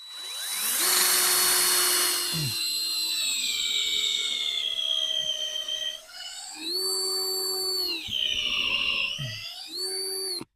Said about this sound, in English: So we're going to drill right here. And you want to drill in an upward position.